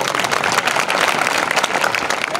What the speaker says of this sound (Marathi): टाळ्या वाजताना आपल्या भावकीत कोणी मेलं नाही, वाजल्या तर बिनधास्त वाजवायच्या